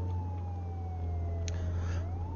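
A police car siren wails in the video game Contraband Police, a sweeping tone over a heavy, steady engine drone during a prisoner transport, with a brief sharper burst midway and no talk.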